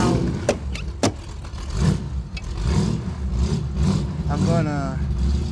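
A 1967 Shelby AC Cobra with a five-speed gearbox revs its engine, a steady mid-pitched roar sustained from close by across the whole stretch, with a couple of sharp knocks near the start and people talking over it.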